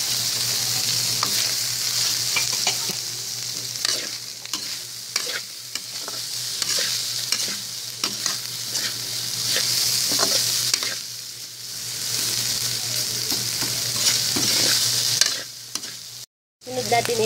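Ground pork seasoned with salt and pepper fries and sizzles steadily in a pan for pork asado filling, with a constant close hiss broken by stirring scrapes and a brief drop near the end.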